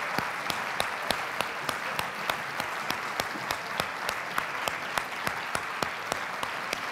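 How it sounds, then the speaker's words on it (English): Applause at a TEDx women's event closing ceremony carries on steadily, with a dense wash of clapping and distinct sharp claps recurring at an even, rhythmic pace. "for one last applause and photos"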